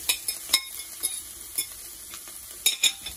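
Onion goes into a pan of sizzling beef steak, with sharp utensil clicks and scrapes at an uneven rhythm over a faint, steady frying hiss.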